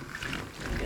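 A creature in the Sons Of The Forest video game gives a short, low growling roar, faint and rising slightly toward the end, heard alone.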